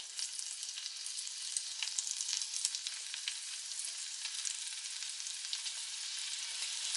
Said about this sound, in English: when the butter starts to melt, I'm just going to tear my mushrooms into the pan